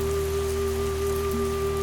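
Steady, soft rain falls on wet cobblestones outside a bookshop, a continuous even patter with a low constant hum beneath it and no voices.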